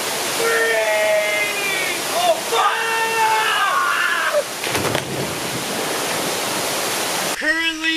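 A waterfall in Vietnam roars steadily and fairly loud beneath excited shouting and cheering voices from swimmers jumping off it, ending with a brief burst of louder yelling.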